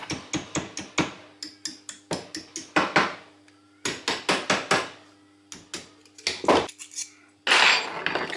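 A metal piece is worked around a bolt with a series of sharp metallic clinks and taps, coming in quick bursts separated by short pauses, close and clear.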